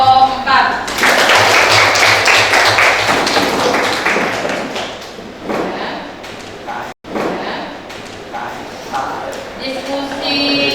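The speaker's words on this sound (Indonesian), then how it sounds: "Kita beri aplaus untuk kelompok 4" A class applauds group 4 after its presentation in a school lesson: a dense, loud burst of many hands clapping for several seconds, then thinning into scattered claps and murmuring voices.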